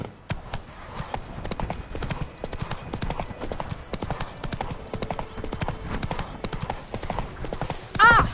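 Roach, a horse in The Witcher game, trots with steady rhythmic clip-clop hoofbeats throughout, close and clear, ending in a brief whinny-like sound, with no speech.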